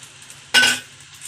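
Cumin seeds hit a hot pan of browned onion, green chilli and garlic for red chutney, giving one brief clattering sizzle that fades within a quarter second against a quiet background.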